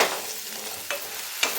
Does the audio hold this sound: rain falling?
no